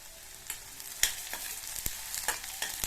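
Slit green chillies sautéed with onion and garlic in a pan for chutney, a soft steady sizzle broken by several sharp scrapes and clinks of a spatula stirring against the metal.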